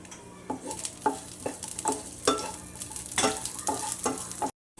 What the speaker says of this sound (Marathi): लसूण कांदा आलं घालायचं ते भाजून घ्यायचं थोडं तेल घालायचं म्हणजे कांदा चांगला भाजतो